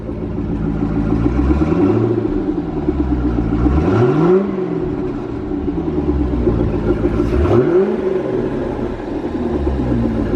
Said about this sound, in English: Andre, give us some gas